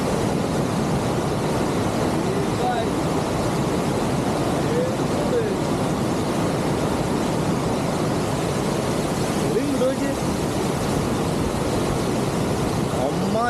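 A waterfall on the Siruvani river roars in a constant, broadband rush that fills the scene evenly for over ten seconds, loud and close, with no clear voices over it.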